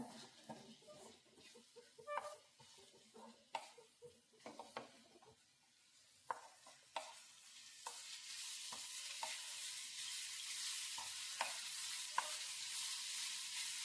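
Green mango rice mixture is stir-fried in oil in a pan, a soft steady sizzle with irregular scraping and tapping from a spatula, growing louder and denser toward the end with no talking.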